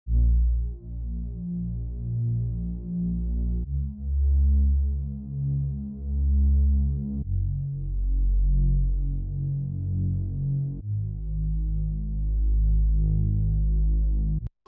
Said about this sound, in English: So next I have the synth bass from Analog Lab.